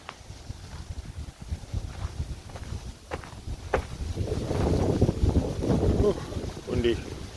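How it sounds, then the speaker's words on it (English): Strong gusting wind buffets the microphone with rumbling roar in woods beside the Stourbridge canal, swelling louder midway, while a voice speaks briefly under it. "windy."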